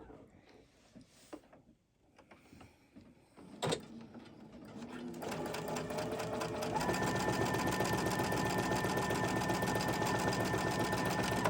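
Sewing machine stitching a quarter-inch seam on fabric for a table runner, a few short starts at first, then a steady continuous whirring run that grows louder and holds to the end, close and alone.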